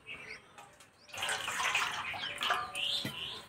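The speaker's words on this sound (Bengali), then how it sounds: "তার জন্য একটা গামলায় জল দেব" Tap water runs and splashes into a basin in a home kitchen, where it will take salt for soaking raw green mangoes; a steady pouring wash follows quieter room sound, fairly close, with faint birdsong outside.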